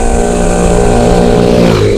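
Motor vehicle exhausts pass along a road during a bike ride, a loud continuous engine drone with a rising rev toward the end, no talking.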